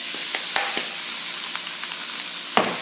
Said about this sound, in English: It should sizzle when it hits the pan.